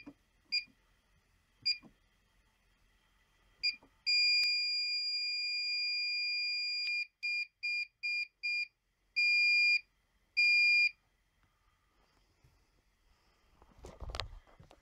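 A home alarm system being switched on gives several short electronic beeps, then a long steady high tone, a run of rapid pulsed beeps and two longer tones, clear and close in a quiet room, with faint rustling at the end.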